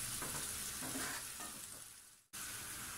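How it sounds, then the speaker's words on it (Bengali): Onions frying in a pan for chicken curry sizzle quietly while a spoon stirs them in soft, rhythmic scrapes, ending in a sudden brief dropout before the hiss resumes. "এখন আমি নেড়ে দিব"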